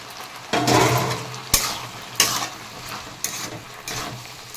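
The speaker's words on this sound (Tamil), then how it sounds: "இப்படி ஃபுல்லாக லோ ஃப்ளேமில் வச்சு மிக்ஸ் பண்ணிவிட்டு" Fried jackfruit being turned into masala in a pan over a low flame: a soft sizzle with several scraping, clattering strokes of the spoon at uneven intervals, close and fairly loud, with no talk.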